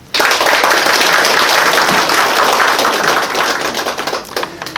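A crowd at a campaign office opening ceremony bursts into loud applause after a brief silence, many hands clapping densely before thinning toward the end into scattered individual claps.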